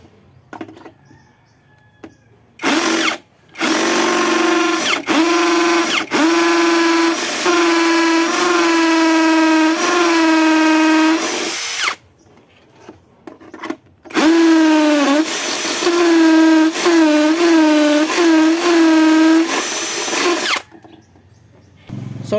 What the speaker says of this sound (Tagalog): So kailangan ko dito ng drill. So meron ako ditong step up drill bits. Ito yung gagamitin kong pang butas dito sa tubo ng speaker stand.